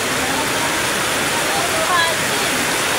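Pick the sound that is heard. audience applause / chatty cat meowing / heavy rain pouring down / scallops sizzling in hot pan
heavy rain pouring down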